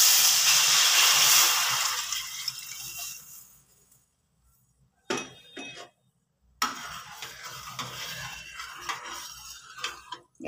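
Water poured into raw mango frying in oil, giving a loud hiss and sizzle that fades away, followed by quieter bubbling and stirring with brief scrapes.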